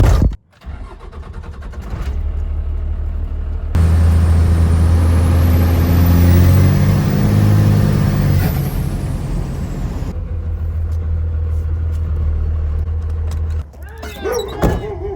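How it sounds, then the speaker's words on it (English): A diesel tow truck cranks over, catches and settles into a loud, deep idle, a lower rumble continuing for several seconds before a brief pause and a rising rev near the end, with no talk. "Tow truck's up and running."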